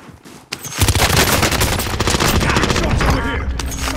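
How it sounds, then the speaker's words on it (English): Rapid automatic gunfire in Call of Duty: Modern Warfare, bursting in after a brief quiet moment and continuing loud and dense, with overlapping shots throughout. "Shots over here!"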